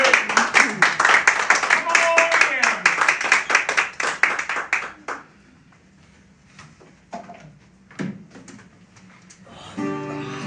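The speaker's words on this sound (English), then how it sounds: "Y'all ready to snap and clap?" Improv show audience snapping and clapping in a dense, lively burst for about five seconds, then thinning to scattered claps and a few voices as performers begin talking.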